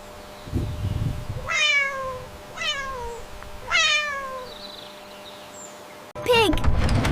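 A cat meows three times in a row, each call loud and close with a falling pitch, spaced by short pauses over a low background hum, followed by a brief burst of a different sound at the end.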